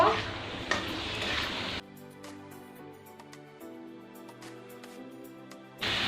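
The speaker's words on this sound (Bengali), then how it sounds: "খুব ভালো করে এবার নুন হলুদটা এটার সঙ্গে মিশিয়ে দেব" Chicken liver mixed with salt and turmeric in a pan sizzles loudly for a moment, then drops to a quiet spell with faint clinks and light stirring before the sizzle rises again near the end.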